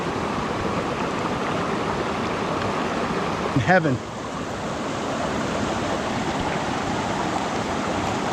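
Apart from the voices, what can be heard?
cold mountain stream water flowing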